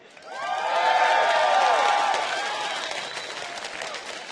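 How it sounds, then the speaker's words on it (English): Esports arena crowd at the 2012 League of Legends World Championship group stage cheering and applauding for SK Gaming, a broad sustained roar with clapping that swells quickly, peaks, then slowly eases off. "let's hear it for SK"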